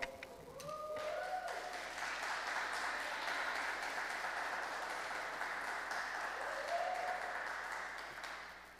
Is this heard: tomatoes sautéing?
no